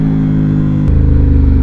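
A Ducati Hypermotard motorcycle engine revs loud and close, holding a steady drone that then drops into a lower, pulsing throb.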